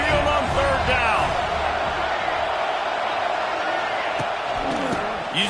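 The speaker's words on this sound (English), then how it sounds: "the Tide crowd rolling noise down onto Saban Field on 3rd down" A college football stadium crowd at Saban Field roars steadily on third down, a loud continuous wall of noise with cheers and whoops and no break across the whole stretch.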